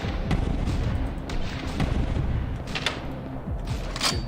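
A stationary video game boss fires bullets in a rapid, dense barrage of booming, crackling shots that overlap into a continuous roar, loud and close with no voices.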